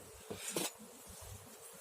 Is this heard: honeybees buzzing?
yes